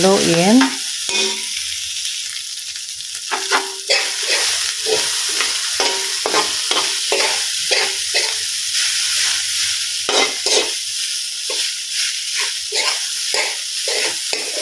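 Cooked rice with carrots is stir-fried for sinangag, a loud, close sizzle under a steady run of quick spatula scrapes and taps against the pan, regular and unbroken for the whole stretch.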